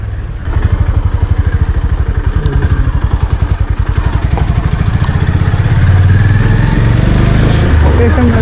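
A 2023 Honda CB350 cruiser on a test ride, its engine close and loud with a steady pulsing thump that rises slightly as it pulls, while someone talks over it.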